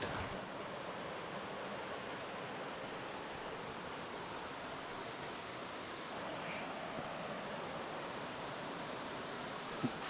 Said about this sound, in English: The waterfall's pretty loud.